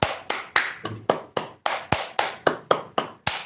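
Hands tap steadily on the body during a seated exercise for older people, about a dozen evenly spaced, crisp slaps in a brisk rhythm.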